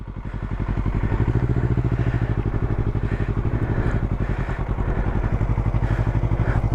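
A motorcycle ridden by a learner working the clutch, with a close, steady, throbbing engine chug that holds at an even pace as if idling or rolling slowly, and no talking.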